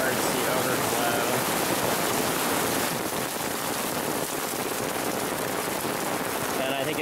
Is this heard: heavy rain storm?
yes